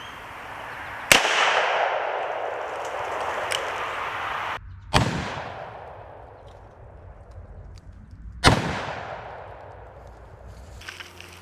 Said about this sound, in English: Let's do a little 357 out of this Colt Trooper.